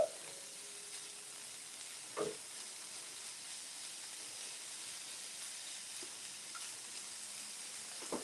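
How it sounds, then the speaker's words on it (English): Soft, steady sizzling hiss of bacon frying in a pan, quiet and continuous, with a couple of faint clinks. "bacon sizzle is top-notch food sound in my book"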